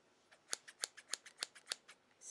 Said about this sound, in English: I need a scissors.